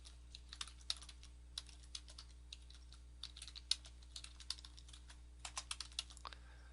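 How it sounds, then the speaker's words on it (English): Quiet, irregular clatter of keystrokes on a computer keyboard as a web address is entered, short bursts of taps with brief pauses between them, close by and alone. "So you type in"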